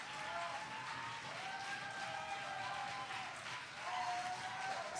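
Steady audience applause at a Belgian final event, a dense wash of clapping with faint tonal cries and whoops over it, moderately loud throughout.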